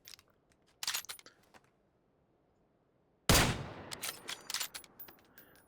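Gunfire in the battle royale game PUBG: a quick burst of shots near the start, a pause, then a loud sharp blast with a long echoing tail followed by scattered further shots.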